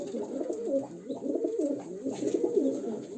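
Pigeons kept and bred for rehoming coo continuously in low, throaty overlapping calls, steady and fairly close, with no talking.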